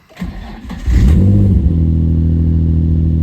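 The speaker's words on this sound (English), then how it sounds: "when you start the car" A Nissan 350Z that has gone four years without a service cranks briefly, then its engine catches and settles into a loud, steady idle hum heard up close.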